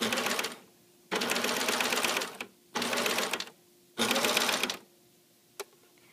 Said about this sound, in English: So I'm going to start stitching, making sure my presser foot is down, and I'm going to slowly stitch